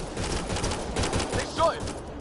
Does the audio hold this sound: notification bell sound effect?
no